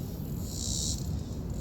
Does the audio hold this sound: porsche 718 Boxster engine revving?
no